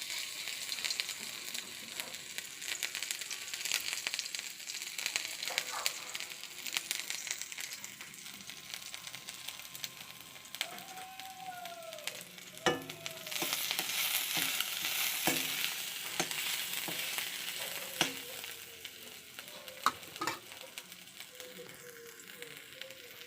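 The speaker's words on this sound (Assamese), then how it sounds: "তেলখিনি গৰম হৈ গ'ল। আদা নহৰু পেষ্টখিনি দি দিছোঁ।" Ginger-garlic paste sizzles and crackles in hot oil in a pan, a continuous frying hiss broken by sharp stirring scrapes and clatters, with faint speech in the background.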